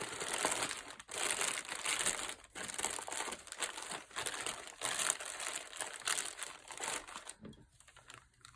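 A large plastic bag crinkles loudly as it is pushed down to line a cardboard box, in a close, busy run of rustles and crackles with brief pauses before it quiets near the end.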